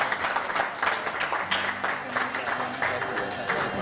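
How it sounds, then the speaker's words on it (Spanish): A studio audience applauds during a Peruvian television variety show, sustained dense clapping that holds steady throughout with a faint crowd murmur beneath. "El aplauso."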